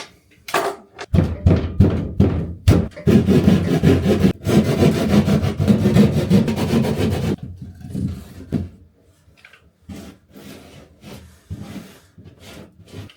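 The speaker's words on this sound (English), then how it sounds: "now I can cut that out with the plaster saw" A plaster saw cuts out a section of bathroom wall in loud, rapid rasping strokes for several seconds, with thuds and scraping before and after as the cut piece is worked loose.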